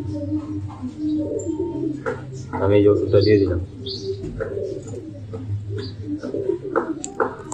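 Pigeons being treated for a winter cold coo nearby in low, repeated murmurs under a person talking close up.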